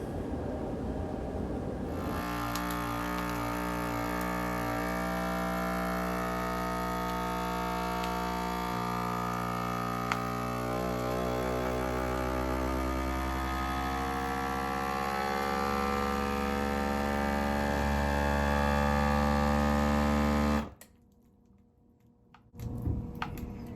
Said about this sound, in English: press the vacuum seal button